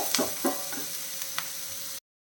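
Sliced onions sauté in a hot pan for a drumstick-leaf and egg dish, a steady soft sizzle with a few scraping stirs near the start, ending abruptly after two seconds.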